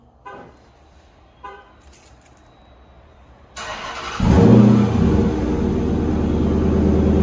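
A Dodge Charger Daytona fitted with new exhaust tips cranks and fires up, its engine catching suddenly into a loud, deep, steady idle rumble after a few quiet clicks and knocks.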